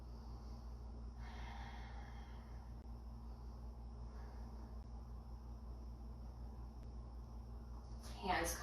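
A slow, audible breath drawn during a guided yoga session, soft and close over a steady low room hum, with no talking while it happens.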